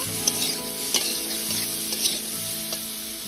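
Radish and potato pieces sizzle steadily in a frying pan with salt and turmeric while a utensil stirs them, giving occasional light scrapes and taps over the continuous hiss, with no speech.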